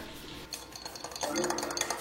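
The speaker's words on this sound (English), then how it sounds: "my syrup is being stirred with my mimosa stirrer" Syrup stirred with a mimosa stirrer in a dish, quiet scraping and clinking of utensil against the container that grows busier and louder in the second half, with faint kitchen background.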